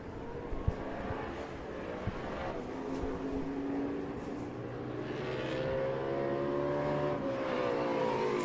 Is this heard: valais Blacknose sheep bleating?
no